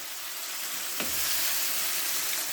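Spinach saag frying in a pan gives a steady, bright sizzle. A brief stirring or scraping sound near the middle is followed by a slightly fuller frying hiss, with no voices.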